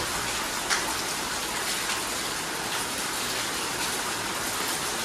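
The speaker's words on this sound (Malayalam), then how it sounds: "വൈകുന്നേരം ആയപ്പോഴേക്കും നല്ല പെരുമഴ വന്നു കേട്ടോ" Heavy evening downpour, a dense, steady roar of rain hissing on surfaces nearby, continuous and unbroken with no voices.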